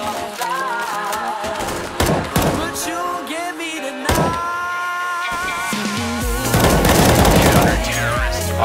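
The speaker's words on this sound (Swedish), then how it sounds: "Han går på tekniken att han skjuter ett eller två skott enkel på sin motståndare så att han stannar upp lite och avslutar sen med en liten snabb burst." Gunfire in a video game at a competitive esports event, with several sharp single shots followed by quick bursts, loud and close amid game effects and some background voices.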